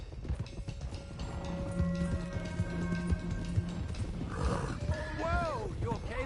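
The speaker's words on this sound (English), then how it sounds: "Let's get these horses to Clemens Cove, quick, before we run into any more trouble." Horses in Red Dead Redemption 2 pound along at a gallop under game music and talk, then one lets out a loud, close whinny near the end.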